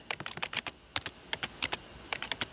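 Rapid taps on a smartphone keyboard while entering an address, a quick irregular run of sharp, close clicks with brief pauses, no voice over them.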